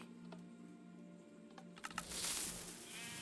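A sheep bleating in Minecraft, one short synthetic bleat standing out over quiet background game sounds, followed by a brief bright burst near the end.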